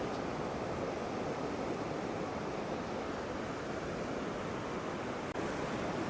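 Surf on Upgang Beach in Redcar & Cleveland washes in with a steady, unbroken hiss and roar, the tide rising, heard alone with some wind buffeting.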